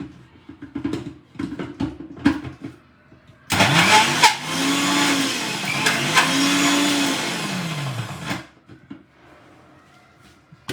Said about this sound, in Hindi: डेट्स जो हैं ग्राइंड हो रहे हैं, बट एक बार और मैं चला लेती हूँ।